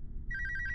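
A telephone rings, a bright, warbling electronic trill that starts suddenly after a low rumble and repeats in quick pulses, heard alone.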